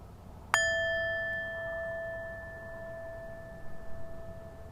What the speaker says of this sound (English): I'm going to ring the bell now and bring us out